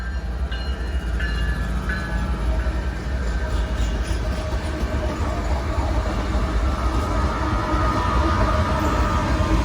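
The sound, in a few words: Norfolk Southern freight train NS 265 departing Inman Yard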